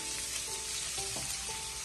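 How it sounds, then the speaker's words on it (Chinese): Bamboo shoots stir-fried over high heat in a wok, a steady close sizzle of hot oil running throughout, with a few brief tonal scrapes and clinks of the spatula against the pan and no voices. "这里我们继续开大火充分的翻炒均匀，把竹笋炒出蒜香味"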